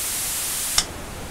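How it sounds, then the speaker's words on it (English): A bright, even hiss of white noise from the noise generator of an ETI 4600 synthesizer plays steadily, broken by a single click that shifts the noise's tone. "with the noise generator we have either white noise"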